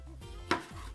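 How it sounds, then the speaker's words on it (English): Knife slicing fresh, juicy oranges into chunks for a cabbage salad, giving one sharp close cut with a brief juicy crunch, without talk. "So we cut them like that, not too finely"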